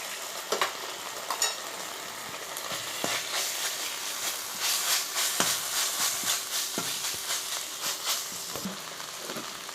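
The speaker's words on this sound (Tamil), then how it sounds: "இஞ்சி பூண்டு பேஸ்ட்டும் பேஸ்ட்டோட வாசனை நல்லா போகிற வரை நல்லா வதக்க விட்டுடலாம்" Ginger garlic paste sautés in a pan, a steady sizzle and hiss broken by repeated sharp scrapes and taps of a stirring spoon, close and with no talk.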